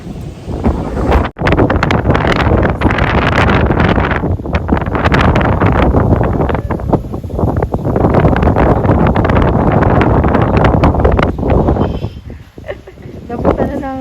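Strong wind buffets the microphone outdoors in rainy Tagaytay, Philippines, a loud, continuous roaring rush that swells and dips for the whole stretch and briefly cuts out near the start.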